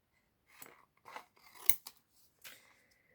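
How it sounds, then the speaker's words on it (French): Scissors snip several times in close, quiet succession, crisp metallic cuts spaced irregularly with short pauses between them. "Les ciseaux."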